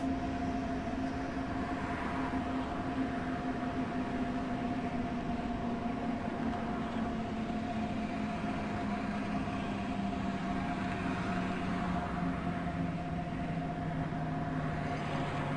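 An S-Bahn commuter train at the new airport's station pulls away with a steady electric whine and hum, one tone slowly gliding as it moves, continuous and moderately distant under a broad rumble.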